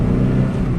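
The engine of a 1993 Mazda B2600 4x4 with an upgraded exhaust drones loud and close, a low rumbling growl as the truck shifts into second gear on a hill.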